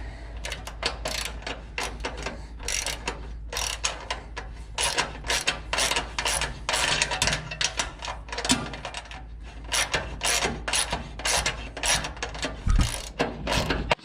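A self-tapping bolt is threaded into a transmission cooler mount, giving a steady run of quick ratcheting clicks from a hand wrench, close and fairly loud, repeating throughout without any talk.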